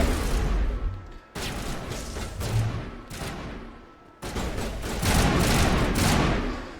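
Dense bursts of enemy gunfire from the Mass Effect Legendary Edition game, rapid overlapping shots in loud waves with brief gaps between volleys, continuing alone without talk.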